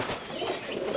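A Marcopolo tomprang high-flying pigeon with yellow eyes, held in the hand, coos softly and close under a rough, noisy background for about a second.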